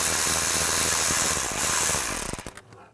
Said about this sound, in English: use an 8mm socket, loosen up the worm clamp